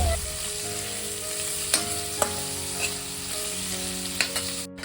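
Chopped onion and slit green chilies frying in oil for a village-style bassaru sambar make a close, steady sizzle, punctuated by a few sharp clicks of a stirring spoon against the pan, with no one speaking.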